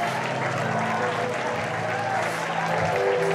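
Church congregation applauding during worship, a dense continuous clapping crowd mixed with voices and tonal music throughout.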